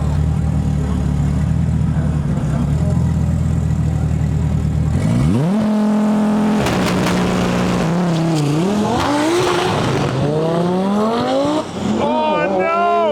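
Drag race launch between an Audi TT RS and a blue Audi R8 at a World Cup Finals event: a steady engine idle, then loud revving and a rising roar as both cars launch, with shifts, tire chirps and people talking over it.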